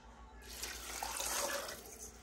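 Water gushes in a steady stream into a pot, the splashing growing fuller as it runs, close by.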